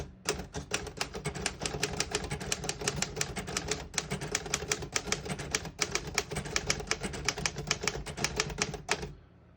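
Rapid, steady clacking of a 1952 Royal HHE manual desktop typewriter, keys striking in quick bursts for several seconds, close and clear with no voices.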